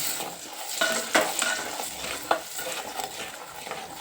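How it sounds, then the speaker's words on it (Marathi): Homemade spice masala for Puneri misal sautéing in a pan, a soft continuous sizzle broken by scraping stirs of a spoon against the metal, close up with no voices. "तर बघा आता हा मसाला ना परतलेला आहे चांगला"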